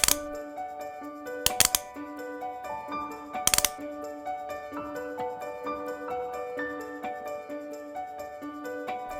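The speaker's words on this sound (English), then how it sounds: "Twist the cap until it no longer clicks." A ratchet cap on a Melni electrical connector, gripped with channel-lock pliers, gives a series of sharp, close clicks as it is twisted, with a couple of louder snaps early on and fainter clicks after.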